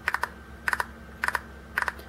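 A fingernail scrapes across the grip rings of a 2016 EvaCup silicone menstrual cup, giving four quick clusters of sharp clicky ticks, three ticks per cluster, close and clear with no talking.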